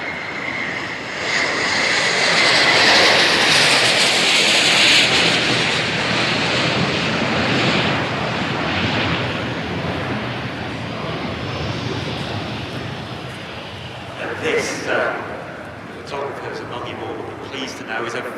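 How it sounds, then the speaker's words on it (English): A Bombardier Global 8000 business jet rolls past in an airshow flying display, a broad loud jet roar that swells early and slowly fades as it passes, with an announcer speaking over it. "now, rolling from the right, our next display item, Bombardier Global 8000"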